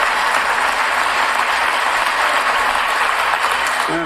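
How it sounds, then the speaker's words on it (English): A live audience claps loudly and continuously, dense sustained applause filling the room from start to finish. "everyone's got to clap for that"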